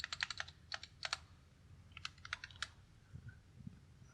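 Fingers tap out quick bursts of keystrokes on a computer keyboard close by, a clicking cluster at the start, another after a short pause, then quieter bumps with no voices.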